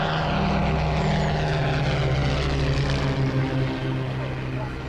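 A Spitfire fighter plane takes off from an airfield, its piston engine and propeller roaring loud and steady throughout with a strong low drone that eases slightly toward the end as it climbs away.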